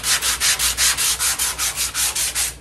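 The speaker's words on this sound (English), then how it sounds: "this is just a little foam or medium density foam sanding block." Foam sanding block rubbed by hand over a car body panel's paint, a rapid, even back-and-forth scratching of about a dozen close, loud strokes with no talking.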